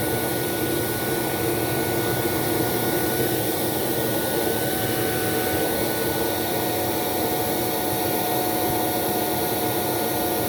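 A Hoover C2401 backpack vacuum runs at full power during an airflow test, a loud, steady motor whine with a rushing airflow roar and a faint high tone, constant and close with no speech.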